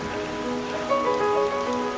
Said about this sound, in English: It's proper on raining now.